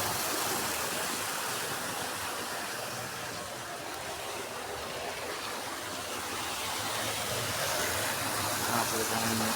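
Water gushing steadily from a running water supply pump motor, a loud continuous rushing splash that holds without a break from start to finish, close to the listener with no talk over it.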